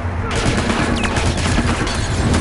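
Rapid gunfire in The Last of Us Remastered, dense overlapping shots rattling continuously through the whole stretch, loud and close, with voices talking underneath.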